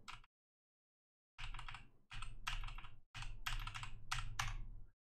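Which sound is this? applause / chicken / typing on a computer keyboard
typing on a computer keyboard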